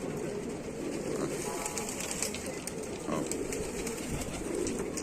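Domestic pigeons coo softly from a rooftop loft, the low murmuring calls layered over a steady outdoor hum with faint rustling, and no clear wing flaps stand out.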